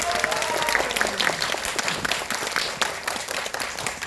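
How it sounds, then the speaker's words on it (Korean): Audience applause from a film screening crowd greeting the cast of the Korean film 오후 4시, dense steady clapping throughout, fairly loud and close with no talk over it. "큰 박수를 일단 맞이하겠습니다"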